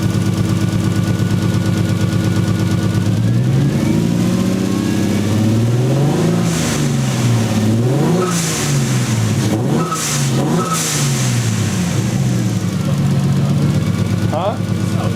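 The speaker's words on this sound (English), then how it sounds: "got it running, and it's misfiring" A 1JZ engine swapped into a Nissan 240SX runs rough and misfires, its uneven idle rising and falling in loose revs, close and loud, with a person talking over parts of it.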